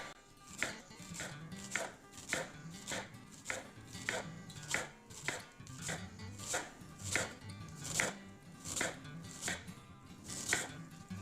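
A knife chops vegetables for coleslaw on a cutting board in a steady rhythm of crisp, evenly spaced thuds, close and clear with no talking.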